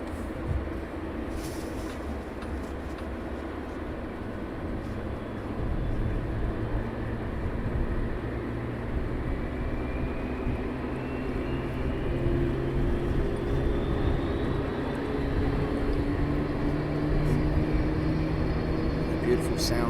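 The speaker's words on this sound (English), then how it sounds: "So we have a 757 also pushing back." A Boeing 757 pushes back at East Midlands Airport at night with a steady, low engine rumble and whine rising slowly, heard from a distance under background noise, with some talk.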